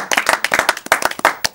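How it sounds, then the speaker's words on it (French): A small studio audience claps on a French local television programme, a close burst of uneven, overlapping handclaps lasting under two seconds. "Bravo, on peut vous applaudir."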